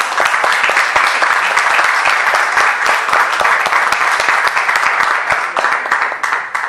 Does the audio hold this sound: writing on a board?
no